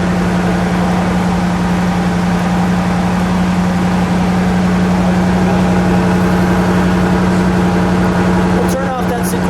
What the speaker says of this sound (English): I'm going to listen to that exhaust note